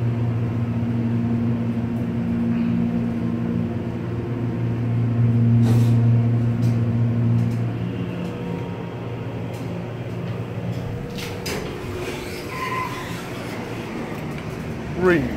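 A Montgomery hydraulic elevator's motor hums low and steady with a strong tonal whine, then eases off as scattered clicks and knocks follow near the end.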